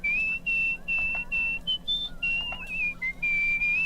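A character whistles a melodic tune in the video game Where the Water Tastes Like Wine, with clear sustained notes in short phrases, some sliding up or down, over quiet background music.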